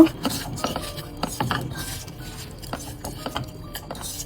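Spoon stirring and mixing mashed seasonings with chili and salt in a metal bowl for potato bhorta, a string of irregular clinks and scrapes, close and moderately loud, no voices.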